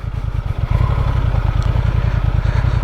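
A 2023 Honda Transalp XL750 motorcycle engine runs close by during a slow turn, a steady loud low throb with rhythmic pulsing that firms up slightly partway through.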